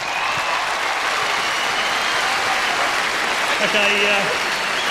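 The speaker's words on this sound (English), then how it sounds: "the whole three of them deserve a real big round of applause" A crowd claps steadily at the 1995 launch of the Port Adelaide Power football club, a broad wash of applause with a voice briefly heard over it.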